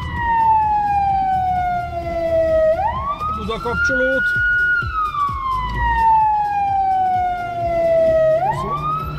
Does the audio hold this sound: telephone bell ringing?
no